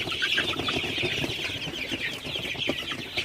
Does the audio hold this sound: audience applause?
no